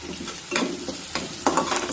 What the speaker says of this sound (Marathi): आणि ही कढीपत्त्याची पाने सुद्धा कांद्यासोबत परतून घेऊया